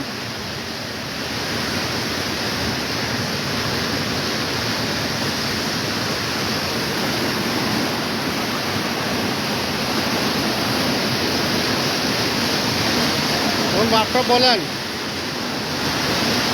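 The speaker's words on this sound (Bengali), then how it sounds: "এই স্রোতে পানি পড়ে" Kushiyara river water pours through a sluice gate into a haor wetland as a steady, loud broadband rush, with a brief voice near the end.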